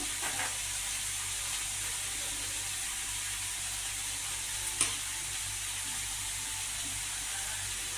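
Chicken filling with grated boiled potato and fried spice mix sizzles steadily in a pan while being stirred, a constant close hiss with one brief clink partway through.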